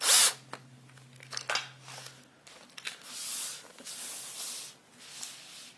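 A D-ring is driven by power drill into a picture frame, with short whirring bursts of the driver separated by pauses, close and fairly loud, with no talking.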